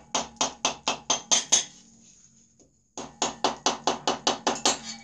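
A cylinder on an air-cooled VW engine struck repeatedly to loosen it: two quick runs of sharp metallic knocks in an even rhythm, separated by a short quiet gap, close and loud.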